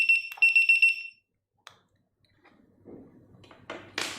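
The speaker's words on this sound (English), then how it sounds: "This is for the human voice warning for the hand unit, and then will be the beep sound for the USB" A Steel Mate tire pressure monitor hand unit sounds a sharp, loud electronic beeping alarm in rapid pulses, then falls quiet before faint handling noises and rustling follow.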